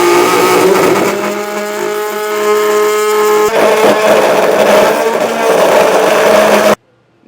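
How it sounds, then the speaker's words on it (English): An oscillating tool cuts a square opening for an exterior LED utility light, producing a loud, steady, close buzzing drone whose pitch shifts slightly midway before it stops abruptly near the end. "We're using an oscillating tool, but you can use a rotary tool as well to get this cut out."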